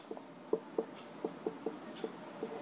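Chalk taps and scratches on a board in a chemistry class, a run of short, evenly spaced strokes that sound faint and close with no talk over them.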